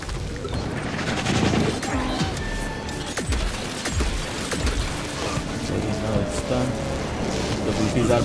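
Rapid gunfire from Evil West's combat rattles on continuously in dense, loud bursts mixed with crashes and impacts, under heavy game noise throughout.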